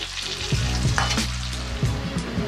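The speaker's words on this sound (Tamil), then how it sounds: "நல்ல ப்ரௌனாக நல்ல கிறிஸ்பியாக ஆகிற வரைக்கும் ஃப்ரை பண்ணோம்." Idli pieces fry in hot oil until crispy, giving a dense, continuous close-up sizzle with small crackles and stirring knocks.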